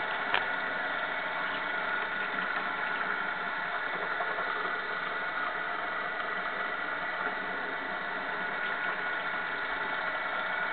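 A post drill fitted with a replacement electric motor runs steadily, giving a constant whirring hum with a faint mechanical buzz throughout and no speech.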